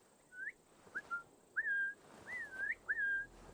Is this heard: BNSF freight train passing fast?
no